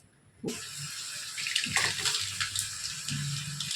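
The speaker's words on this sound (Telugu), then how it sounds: "ఒకటిన్నర గ్లాస్ నీళ్ళు ఒకటికి రెండు వరుస కొంచెం ఎక్కువ పోయాలి" Water pours from a glass into ragi flour, a sudden splash starting the steady close gush that runs on with small gurgling surges, alone.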